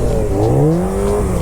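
A motorcycle engine revs hard and continuously during sitdown stunt circles in a parking lot, a loud close droning whine rising and dipping with the throttle.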